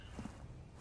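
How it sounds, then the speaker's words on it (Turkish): Enemy footsteps in the shooter game Critical Ops, a few faint, muffled steps under a low game-ambience hum, with a slightly louder step near the end. "Ayak sesini duydum adamın."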